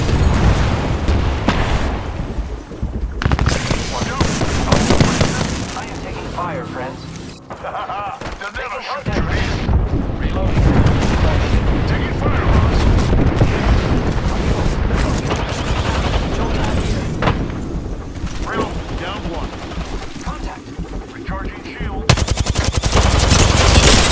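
Dense machine-gun bursts and heavy impacts from an Apex Legends firefight, loud and nearly continuous, with a short lull partway through. Voices speak over the shooting.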